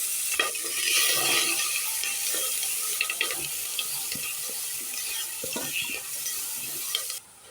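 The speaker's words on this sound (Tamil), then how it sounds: "தக்காளி கருவேப்பிலை வெங்காயம் பூண்டு இதெல்லாம் சேர்த்து மொத்தமாக சேர்த்து நல்லா வதக்கி எடுத்துக்கலாம்" Tomato, onion, garlic, curry leaves and spices sautéing in a pan, a soft sizzle broken by frequent stirring scrapes and clinks, fading out at the end.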